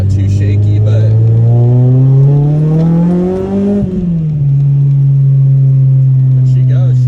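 An 8th-gen Honda Civic Si with a 3-inch exhaust pulls hard, its engine note climbing steadily in pitch, dropping briefly at a shift, then holding a loud droning tone from inside the car.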